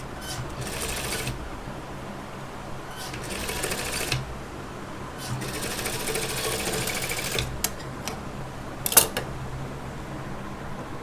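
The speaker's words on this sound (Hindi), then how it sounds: "ये बाजू डबल होते हैं तो डबल में इस तरह से इनको यूँ सिलाई लगानी है" A sewing machine runs a gum (hidden) seam along a doubled puff sleeve, whirring in several short bursts separated by pauses, close and steady, with no talking.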